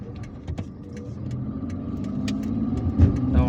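A car driving down a main street in Hussein Dey, Algiers, engine humming steadily from inside the cabin with a slight rise in revs, road noise and small rattles underneath.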